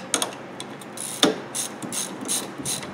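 A wrench ratchets in several short clicking bursts while a brake caliper bolt on a Ford Escape's front brakes is torqued down, close and fairly quiet.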